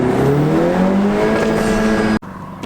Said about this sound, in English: The way that it bounced off the rev limiter